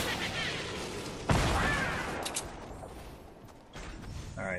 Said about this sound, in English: I'm gonna shoot one more time.